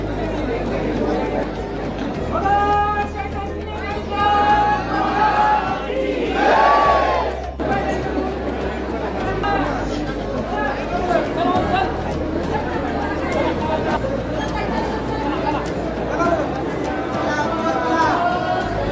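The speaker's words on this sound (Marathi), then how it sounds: "दिवाळीमुळे खूप जास्त गर्दी आहे।" A dense crowd of devotees packed into a temple during Diwali, a constant babble of overlapping voices with occasional shouts rising above the hubbub, while people nearby talk.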